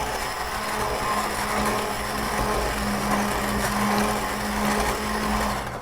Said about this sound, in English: So we will start that blending.